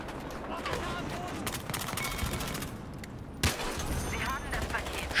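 Gunfire and a grenade explosion in the Battlefield Hardline multiplayer video game, with dense rapid shots and a sharp blast midway through continuous battle noise, while a player talks over it.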